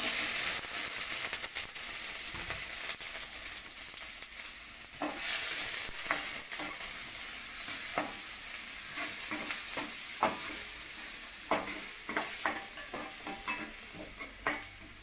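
Chopped onions and green chillies frying with mustard seeds in a pan for beans poriyal, a loud steady hiss and sizzle broken by frequent sharp stirring scrapes and clicks.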